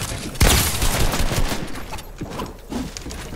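Video-game shotgun fire erupts in a loud, dense burst followed by a rumbling run of overlapping shots and echoes that gradually thin out.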